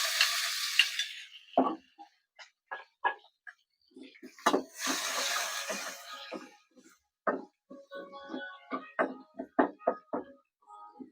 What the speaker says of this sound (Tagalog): Pag brown na yung bawang, sunod man sibuyas.